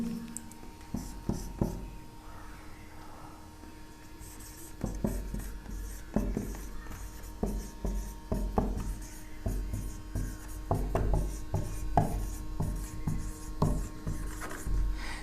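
Marker or chalk scrapes and taps across a board during a solid-state physics lecture, with short scratchy strokes in irregular bursts over a steady room hum.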